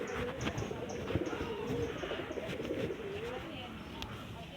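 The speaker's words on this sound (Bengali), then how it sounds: "ওই যে কি সুন্দর কবুতরগুলা, কি সুন্দর করে ঘর দিছে" Pigeons coo repeatedly in soft, low, rhythmic calls near a rooftop coop, with a faint murmur of people in the background.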